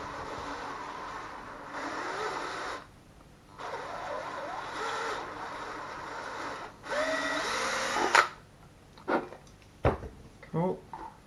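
A drill bores through the thick bottom of a plastic bottle, producing a steady grinding whir in several bursts separated by short pauses, then a few sharp cracks and scrapes as it breaks through.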